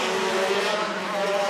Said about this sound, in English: Every kart that goes past has a different exhaust note to it.